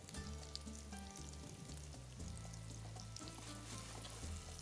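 Chopped garlic and onion sizzle steadily in a hot frying pan, a loud continuous crackle with occasional stirring scrapes, close and alone without talk.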